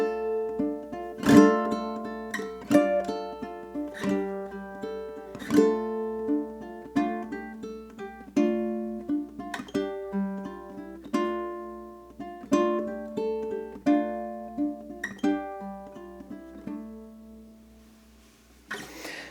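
"Hanukkah, Oh Hanukkah" is strummed and plucked on a ukulele, with firm, punchy attacks at first that soften partway through. The bright, close notes ring in a steady rhythm without any voice.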